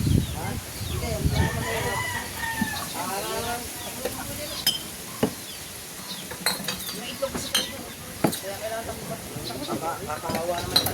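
Chickens cluck and chatter near a hut being cleaned, with a rooster crowing among them. People talk over the birds, and occasional sharp knocks and clatters break in.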